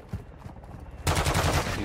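In the Call of Duty DMZ video game, bursts of gunfire erupt, starting with a few scattered distant shots before a loud rapid automatic volley takes over the second half.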